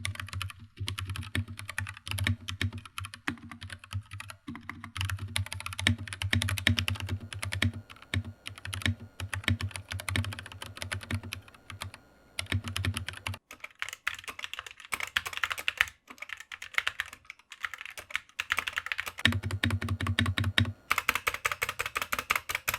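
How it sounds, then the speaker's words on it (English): Gateron Red linear switches are typed on an Anne Pro 2 keyboard and compared with Gateron Optical Reds on a GK61, producing close, rapid clacking in uneven bursts with short pauses and no talking. "Here's a sound test of the Gateron Reds on the On Pro 2 compared to the Gateron Optical Reds on the"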